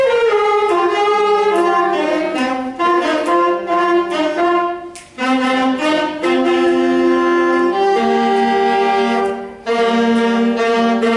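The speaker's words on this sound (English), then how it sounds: "the one you just heard is an alto saxophone" An alto saxophone plays solo with no accompaniment, a loud, close melody of clear sustained notes in short phrases, with brief breath pauses between them.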